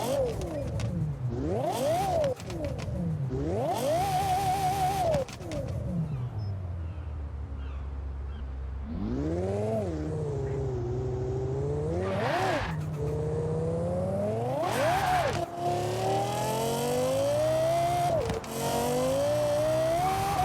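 Lexus LFA 2010 in the Forza racing game, engine revving hard again and again, pitch sweeping up to a shrill scream and dropping between gear changes, loud and close throughout.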